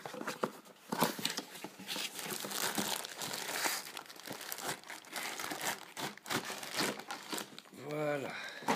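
A knife slices and tears packing tape off a Dragon Ball Z Goku figure's cardboard box, giving close, continuous crinkling, ripping and scraping with sharp crackles throughout and a brief squeak near the end.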